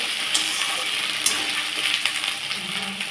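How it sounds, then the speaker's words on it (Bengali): Potatoes frying in a wok with whole garam masala, cumin and bay leaf for a cabbage curry, giving a steady close sizzle with a few sharp stirring clinks and scrapes, no voices. "এইবার আমি আলুগুলো একটু ভাজা ভাজা করে নিচ্ছি।"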